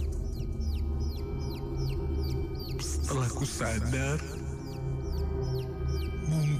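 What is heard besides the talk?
chick peeping sound effect in radio horror drama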